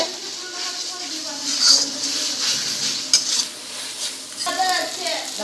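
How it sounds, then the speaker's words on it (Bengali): Mutton pieces dropped into a pan of fried spice masala, giving a sizzling, frying hiss with scraping and stirring clinks of a utensil against the pan, moderately close and mixed with a bit of voice. "মটনটা দিয়ে দিচ্ছি।"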